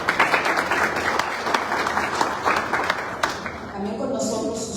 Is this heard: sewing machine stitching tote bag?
no